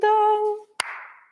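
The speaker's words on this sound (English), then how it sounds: "we clap after the words again" A single sharp hand clap lands right after a spoken word during a Kodály and Kokas method music class exercise. Brief, close and crisp, it follows a person talking.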